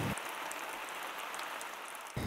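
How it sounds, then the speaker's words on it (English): Rain falling on the ground, a dense, even hiss of drops that runs steadily at low level throughout with no voices. "send the sound of rain falling on the ground"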